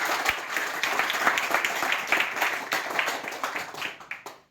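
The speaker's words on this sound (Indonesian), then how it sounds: "Beri aplaus dulu" Applause from a classroom audience of students: brisk, close clapping that holds steady and then tapers off with a few last claps.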